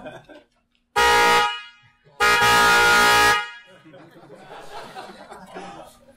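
A Loud Bicycle car-style horn mounted on a bicycle gives two long, very loud honks, each lasting over a second, in an indoor room. A crowd laughs and chatters in the pause and afterward.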